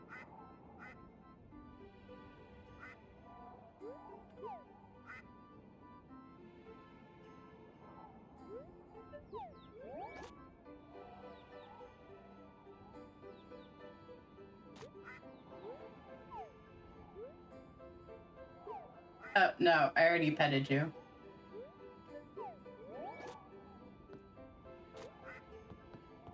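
A short burst of duck quacking in a cozy farm video game breaks out over light chimes and a chatty voice, with soft game sounds ticking in the background.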